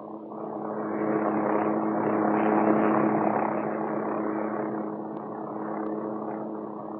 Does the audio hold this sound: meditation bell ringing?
no